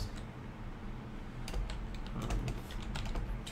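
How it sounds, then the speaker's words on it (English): Rapid typing on a computer keyboard, a close run of light clicky keystrokes over a constant low background hum. "We'll type this in Seekers."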